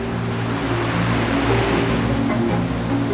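Continuous roar of rough sea currents and waves, a dense rushing wash with a steady low rumble beneath, loud and unbroken throughout.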